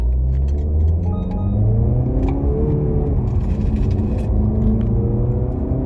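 A Mazda CX-30 compact SUV drives steadily, its engine and road rumble loud and continuous from inside the cabin, with faint small rattles on top.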